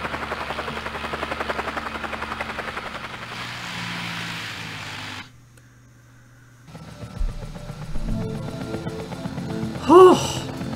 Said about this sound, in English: we all escape on the helicopter together